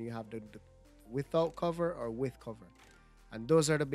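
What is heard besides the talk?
No distinct noise like a dog, phone or traffic.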